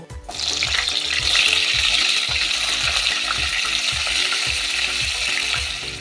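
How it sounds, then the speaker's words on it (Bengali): Pointed gourd pieces frying in hot mustard oil with salt, a loud, dense, continuous sizzle close by, with a faint rhythmic knocking underneath. "তেল গরম হয়ে গেছে এর মধ্যে একটু নুন ছিটিয়ে আমি এই পটলগুলো ভেজে নেব"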